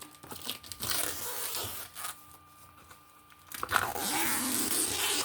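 Plastic wrapping is torn and crinkled off a cross-stitch piece from an AliExpress unboxing, close and crackly, coming in bursts of ripping and rustling with a brief quieter gap.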